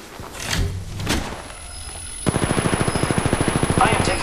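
Gunfire in Apex Legends Mobile: a couple of separate shots at first, then a fast, steady burst of automatic fire that runs loud to the end.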